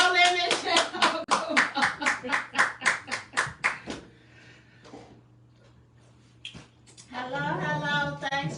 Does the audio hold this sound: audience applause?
yes